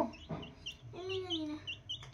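Chickens cluck softly in short, quiet bursts while children play with them, with a young voice mixed in among the bird calls.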